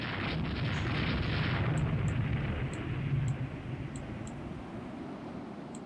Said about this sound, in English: The battlecruiser has opened fire at Jean Bart.